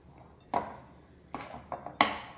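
A spoon knocks and scrapes against a bowl while stirring sourdough dough, giving a few sharp, quiet clinks separated by pauses, close and alone.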